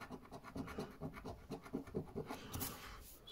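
Rapid rhythmic scratching strokes scrape across a card up close, fairly steady, then a brighter rasping swipe near the end.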